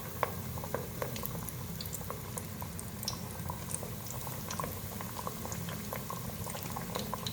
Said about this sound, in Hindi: अब फ़िश को हम फ्राई करना स्टार्ट करते हैं।